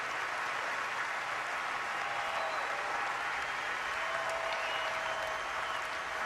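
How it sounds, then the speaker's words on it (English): Stadium crowd at an Oklahoma Sooners versus Texas Longhorns college football game applauding as an injured player's cart moves, a broad, distant, sustained roar of clapping from thousands of fans. "you'll hear a big round of applause as soon as that cart starts moving"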